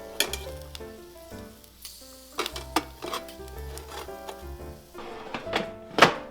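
Roasted pork belly sizzles in an opened air fryer basket, a close crackling hiss broken by repeated knocks and clatter of the basket and utensils.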